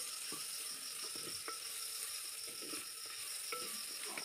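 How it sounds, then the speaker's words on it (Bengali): Chopped tomato and onion fry in a clay pot, giving a steady close sizzling hiss with scattered small pops and crackles throughout. "ভালো করে ভেজে নিচ্ছি।"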